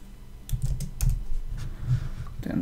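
Typing on a computer keyboard, quiet sparse key clicks in small bursts, close and dry, with no voice over it.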